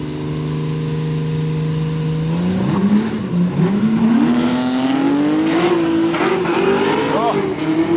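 A car giving passenger rides at a Quick Street event revs hard with a rising, wavering engine note and tire squeal as it drifts, loud and close, with a brief voice in the background.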